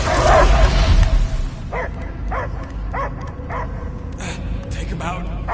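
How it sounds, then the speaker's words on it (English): A dog barks repeatedly in short, evenly spaced yips and whimpers, fairly near. Voices and a loud burst of noise come first. "I hear only barking."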